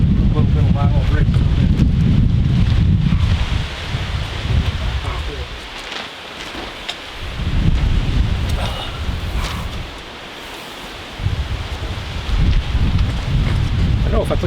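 Strong gusts of wind buffet the microphone on an Alaska woodshed roof under construction, roaring loudly in waves that ease briefly and then surge again.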